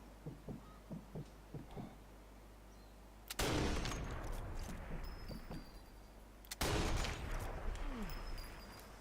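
Sniper rifle fire in Sniper Elite 4 on PS4, during a mansion mission: a few soft thuds give way to two loud, sharp shots about three seconds apart, each followed by a long, rolling echo that fades slowly.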